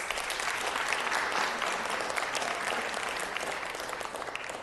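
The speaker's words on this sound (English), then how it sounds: "So round of applause once again." Applause fills a Los Angeles city council chamber honoring sports coaches, a dense, even crowd clapping heard from a middle distance that holds steady and fades slightly toward the end.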